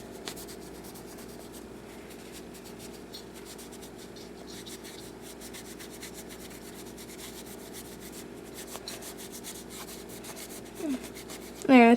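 A dry towel rubs thermal paste off an Xbox 360 heat sink, making soft, steady scratchy wiping strokes that run continuously and fairly close, with a few brief louder handling noises at the end.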